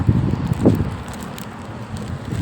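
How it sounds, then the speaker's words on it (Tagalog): Gusty wind rumbles and buffets close by, a steady low roar with a couple of stronger bursts and no talking. "Tingnan niyo po ang lakas ng hangin."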